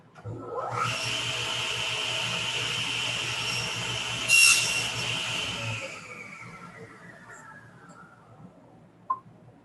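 A saw cuts through wood held in a jig, a steady close rasping drone that swells briefly mid-cut, then fades as the blade winds down, ending with a small knock.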